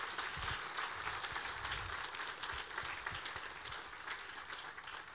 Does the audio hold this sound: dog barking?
no